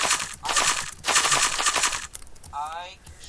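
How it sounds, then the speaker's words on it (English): Rapid automatic gunfire in a Minecraft GTA-style minigame, two loud bursts of video-game shots followed by a short synthetic sound effect. "I can shoot up a place"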